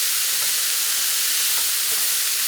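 Frozen chicken broth cube melting in a hot pan while spicy broccoli cooks, giving a steady soft sizzle and hiss with faint stirring ticks, no talking.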